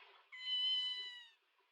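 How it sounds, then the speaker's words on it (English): Cat in the Ghost Trick video game letting out a single clear, drawn-out meow, alone and fairly close. "What a good little kitty."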